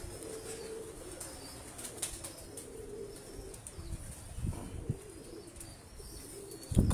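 A Sialkoti pigeon held in the hand gives soft, low cooing, with faint wing rustles and handling noise close by, ending in a brief louder thump.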